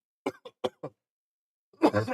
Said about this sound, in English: take out all the parts where I cough.